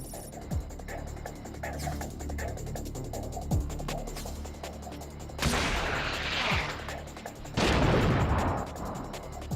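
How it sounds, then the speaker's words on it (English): A turret fires grenades in the mech game Front Mission 5: several sharp launch thumps, followed by two loud, noisy blasts near the end. "the turret that's remaining fires grenades"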